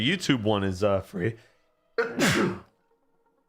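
A single sharp sneeze bursts out right after a man's speech, close to the microphone, then fades into quiet.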